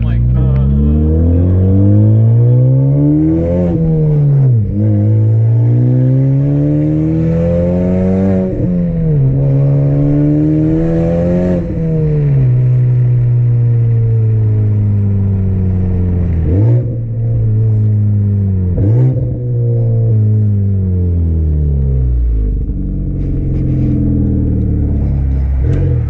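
A Honda Civic Type R with an open front-pipe exhaust revs hard through repeated rising and falling pulls, a raspy, droning exhaust note with gear changes between sweeps, loud and close; people talk faintly underneath.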